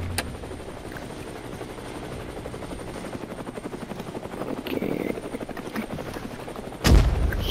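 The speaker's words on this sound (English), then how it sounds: "Chopper heading your way at Charlie." Helicopter in the War Dust VR battlefield game, a steady rotor thrum throughout with faint distant gunfire and a sharp loud impact near the end.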